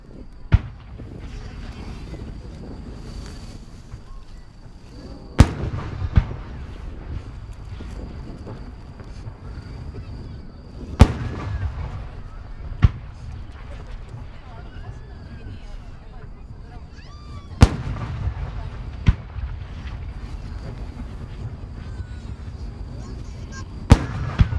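Japanese No. 5 fireworks shells by Kita-Nihon Hanabi Kogyo burst at a national fireworks competition in Yatsushiro, sharp distant booms repeating every few seconds over a constant rumble of wind and crowd noise.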